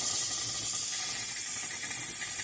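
Loud, steady hiss of steam and spurting water escaping from an overflowing pressure cooker on a strong flame, continuous and close, with no voices.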